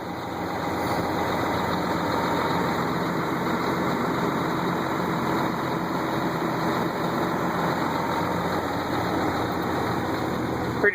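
The engine of an early-to-mid-2000s Sterling tandem-axle roll-off semi truck with an automatic transmission idles after a cold start, holding a steady, loud, close rumble with no break and no talking.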